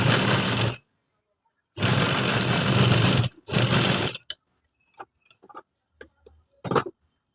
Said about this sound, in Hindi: लाइन के ऊपर पहले सीधी सिलाई